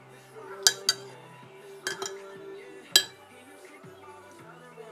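A metal spoon stirs tea in a cup, clinking sharply against the sides in a few separate, irregular taps over a faint background.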